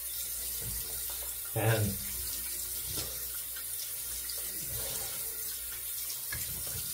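Water streams steadily from a bathroom tap while a disposable razor is rinsed under it, with a brief louder splash partway through and a faint word spoken at one point.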